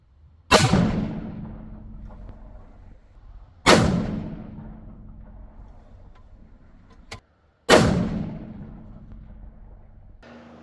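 Three loud, sharp rifle shots from a custom .338 Lapua fire about three to four seconds apart at an outdoor range. Each boom rings out and decays slowly, with a brief click in between.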